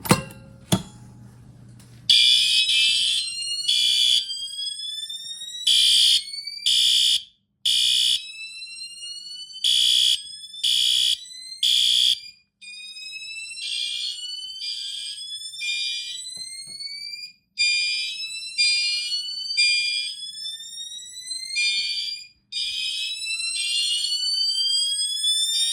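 Pull-station-activated fire alarm during a system test, sounding loud, rapid high-pitched horn pulses in repeating groups with short pauses between them, preceded by a brief thud and low rumble as the station is pulled.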